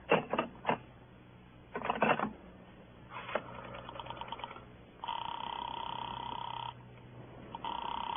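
Telephone call being put through in a 1949 radio crime drama: bursts of clicking and dialing-like pulses give way to steady ringing or buzzing line tones that stop and resume, moderately loud with no talk over them.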